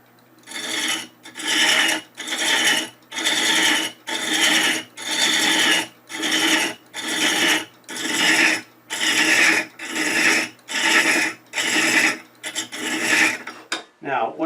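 A hand tool cuts threads into wood for a keepsake box, giving a rasping scrape repeated in regular strokes about once a second, loud and close, with short pauses between strokes.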